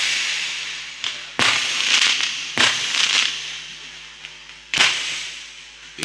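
Firecrackers go off outside in a series of sharp cracking bangs, four or five loud bursts spaced irregularly over several seconds against a constant hiss of crackle and background noise.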